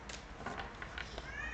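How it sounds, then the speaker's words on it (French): Faint cat meows, a few brief cries, heard against a background hum and room noise. "il miaule beaucoup, mais je crois qu'il est en période de lunaison"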